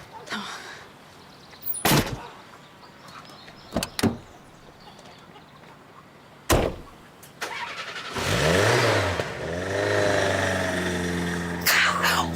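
A car engine turns over and starts, then revs and pulls away with rising engine drone and tyre noise, preceded by a few sharp door thuds and clunks, with no talking.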